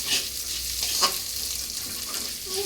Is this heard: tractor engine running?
no